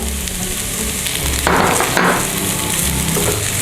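Chopped shrimp and preserved radish stir-fried in a hot pan for Indonesian shrimp talam with winter melon, a steady close sizzle with a brief louder burst of frying and stirring in the middle, no voices.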